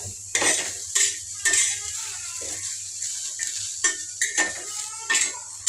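Okra and capsicum curry stirred in a pan with a metal spoon, giving repeated loud scraping and clinking strokes against the pan every half second or so over a faint sizzle.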